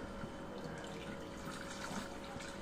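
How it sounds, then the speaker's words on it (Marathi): Strained drumstick pod extract is poured into a wok, a soft, continuous liquid trickle heard close and faint, with no talk. "हे सार आपण आता कढईमध्ये टाकतोय."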